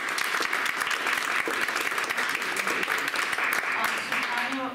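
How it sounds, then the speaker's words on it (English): Sustained applause from an audience at an artist talk, dense continuous clapping that fills the room, loud and close, with voices faintly mixed in beneath it. "we'll give you another round of applause"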